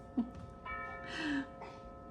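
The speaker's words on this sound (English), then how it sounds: "And the clock's chiming." Household clock chimes at noon, a faint ringing tone with sustained, sliding pitches and a soft tap at the start, heard indoors at low volume.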